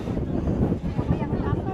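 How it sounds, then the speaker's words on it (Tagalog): Wind buffeting a microphone outdoors during a walk in Batangas, gusty low-frequency rumble with fluctuating loudness, while people talk nearby. "Mahangin eh."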